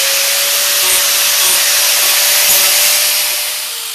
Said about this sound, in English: let's go ahead and finish sanding the top of this thing.